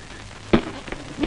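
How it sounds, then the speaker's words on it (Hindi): A few heavy drops smack down one at a time, close and distinct, over a faint background hiss. "बारिश की ये मोटी मोटी बूंदे"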